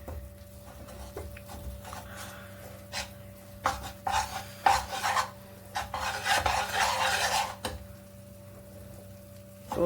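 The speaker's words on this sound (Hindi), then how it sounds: "लो फ्लेम पर अगर हम बेसन भूंजते हैं तो थोड़ा टाइम लगता है" Besan (gram flour) being stirred and roasted in a pan over a low flame, with repeated scraping and rubbing strokes that swell louder midway, alone without talk.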